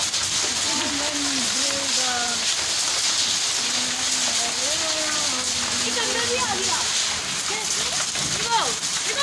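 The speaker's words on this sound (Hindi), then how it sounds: "इतनी तेज बारिश हो रही है पीछे" Heavy rain pours in a loud, dense, continuous hiss throughout, while someone talks over it.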